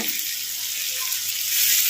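Thoothuvalai chutney ingredients sizzle as they are stir-fried in a pan, a close, steady hiss and crackle with the soft scrape of stirring.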